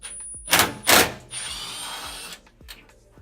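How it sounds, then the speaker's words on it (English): Short bursts of a power driver or drill unscrewing a thermocouple assembly with a 3/8 bit, two loud whirs close by followed by quieter handling clatter and taps. "we'll need just a 3/8 tool here to unscrew it."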